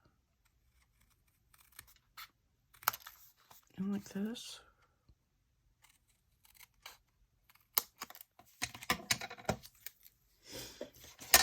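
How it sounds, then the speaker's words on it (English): Scissors snipping through sheets of paper stamps, a few sharp quiet cuts scattered among soft handling sounds, with brief speech in between. "I can use my scissors to cut this here like this"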